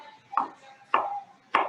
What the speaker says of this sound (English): certainly finish chopping this up, but I have enough onion for what I want to do